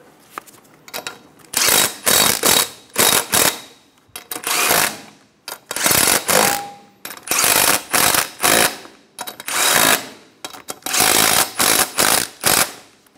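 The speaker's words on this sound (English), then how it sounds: "Put on your 6 lug nuts. Snug them down in a star pattern." A ratchet snugging six lug nuts onto a 2000-2006 Toyota Tundra front wheel in a star pattern, heard as repeated loud bursts of fast clicking, each lasting about half a second to a second, separated by short pauses.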